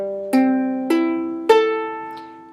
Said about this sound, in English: So when you have all your notes in tune, they should sound like this.